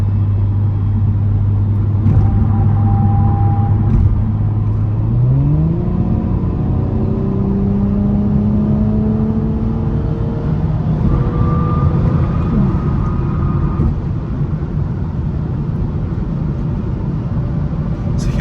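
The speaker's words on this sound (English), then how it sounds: "it gets up to speed quite easily," A 2023 Audi S5 Sportback accelerates hard, its engine note rising steadily through the gears with one clear upshift, loud and close over a constant road rumble.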